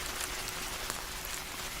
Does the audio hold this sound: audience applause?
no